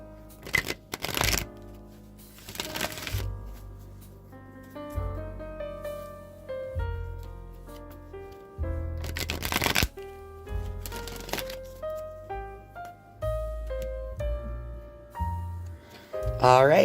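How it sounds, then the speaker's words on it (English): An oracle card deck shuffled by hand in several bursts of riffling and flicking cards, set against soft instrumental music that plays throughout. "I'm going to shuffle the wisdom of the Oracle deck now a few times"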